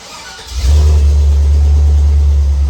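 A 6-liter gas engine cranks briefly and catches on a GOOLOO GT1500 jump pack, then settles into a loud, steady low rumbling idle close by with no talking.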